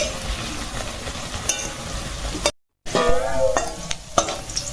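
Biscuit dough fries in a pan over low heat, a continuous close sizzle with a few stirring scrapes, briefly cut to silence midway before resuming.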